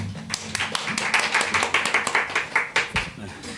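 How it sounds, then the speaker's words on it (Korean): A small church seminar audience claps to welcome pastor Seo Gyeong-su, a dense run of hand claps lasting several seconds at moderate volume, with a voice speaking over the start. "그럼 우리가 박수로 서경수 목사님 환영하겠습니다."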